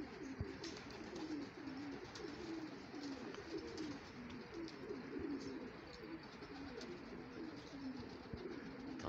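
Domestic pigeons at a rooftop loft coo softly and continuously in low, rolling calls, faint and somewhat distant, with no voices over them.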